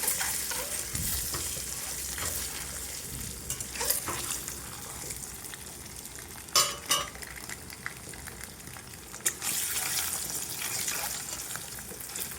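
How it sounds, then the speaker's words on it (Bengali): Eggs rubbed with salt and turmeric fry in hot oil until browned for egg curry, giving a loud, continuous close-up sizzle broken by a few sharp spatula and pan clinks. "এবার ডিমগুলোকে ভালো করে লাল লাল করে ভাজবো"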